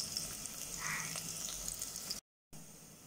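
A large chopped onion sautés in a pan with a faint, steady sizzle and a few soft stirring sounds, broken by a short gap of silence near the end.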